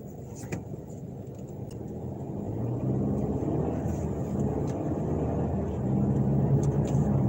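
A car idles at a red traffic light and then pulls away, a steady low engine rumble that swells as it moves off and holds, with faint clicks over it and no speech.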